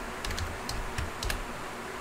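A few scattered taps on a computer keyboard as a web address is typed, light clicks spaced irregularly over a steady low hum, close and fairly quiet with no talk.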